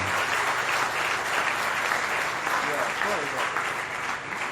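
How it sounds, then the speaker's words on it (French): Crowd applause rings out at the Miss DR Congo 2016 final pageant, loud sustained clapping with voices talking and calling underneath it throughout. "J'attendais plus d'applaudissements, s'il vous plaît."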